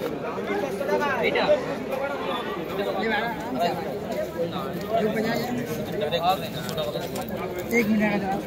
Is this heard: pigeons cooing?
yes